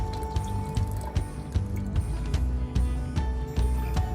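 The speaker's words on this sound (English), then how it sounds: "We've got 2 29-ounce cans of Hunt's tomato sauce here." Hunt's tomato sauce glugs and squishes from a 29-ounce can into a pot, with thick wet plops and drips that come close and fairly loud.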